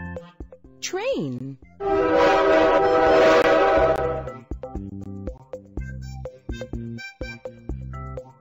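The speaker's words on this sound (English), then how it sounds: "Train." A sound effect of a train horn in a children's learning program blasts for about two seconds over light background music, preceded by a short whistle-like swoop.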